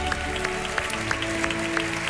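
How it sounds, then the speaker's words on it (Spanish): On a televised talent show, a studio audience applauds a violinist's family. Steady clapping carries faint, regularly spaced sharper claps over a low sustained musical hum. "Un aplauso para ellas, por favor, este aplauso también es suyo."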